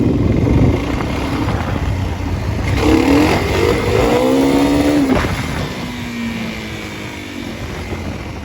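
A dirt bike engine revving at a wheelie strip, a loud sustained motor drone with rising and falling pitch sweeps in the middle, heard close and steady throughout.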